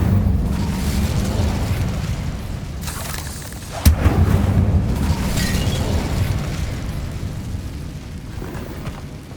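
An Incendio fire spell in Hogwarts Legacy goes off as a sudden sharp blast, breaking a roaring, rushing wash of game sound that swells and fades around it.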